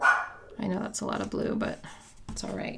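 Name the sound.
dog barking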